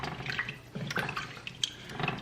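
About three cups of water being stirred into Zuppa Toscana soup broth in a kitchen pot: steady sloshing and swirling liquid, close and moderately loud, with no talking.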